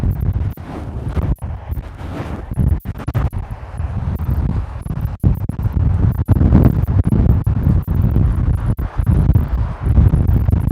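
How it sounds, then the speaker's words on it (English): Strong gusts of wind buffet the microphone outdoors near Highway 101, giving a loud, rumbling roar that rises and falls throughout with brief dropouts. "Oh, that was a gust of wind."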